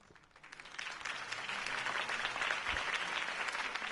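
A video game crowd breaks into sustained applause after a campaign speech, swelling within the first second and going steadily, dense clapping with a faint cheer underneath.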